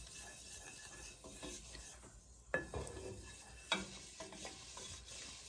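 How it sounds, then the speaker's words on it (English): Three tablespoons of butter melt and brown in a pan on the stove for a batch of Rice Krispie treats, giving a soft steady sizzle with occasional stirring clinks and scrapes. "you're going to add in 3 tablespoons of butter and you're going to let that melt down"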